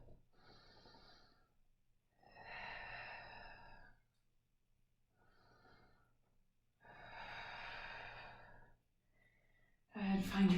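Slow, audible breathing during a yoga flow, with long airy inhales and exhales alternating with quiet pauses, close and soft, ending with a louder breath.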